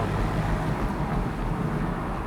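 Porsche 911 997 GTS with a 3.8 litre naturally aspirated flat six engine, a dense steady low engine roar heard from inside while driving, continuous and fairly loud with no talk.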